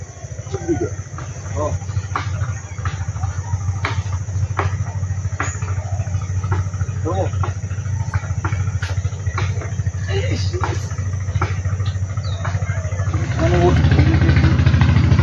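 A motorcycle engine runs steadily through the whole stretch on a trip to Chhoilar Char, a low continuous drone that swells slightly louder near the end, with voices and outdoor background sounds over it.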